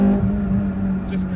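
An Acura RSX Type-S fitted with an Injen cold air intake pulls hard in second gear, a close, steady engine drone that holds its pitch through the brief moment.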